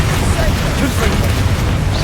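Confringo fire blast spell exploding in Hogwarts Legacy during a fight with spiders, a dense roaring boom that fills the whole short moment at close range.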